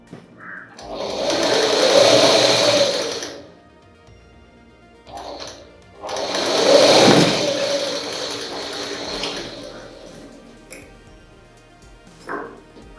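Sewing machine stitching a false piece of fabric: two separate bursts of rapid, close motor-driven stitching, each lasting a couple of seconds with quiet pauses between, plus a few faint handling clicks.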